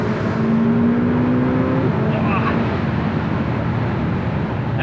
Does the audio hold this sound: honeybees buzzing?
no